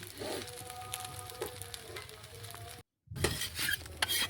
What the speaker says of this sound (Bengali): আবারও কিছুক্ষণ পিঠেটা ভেজে নেব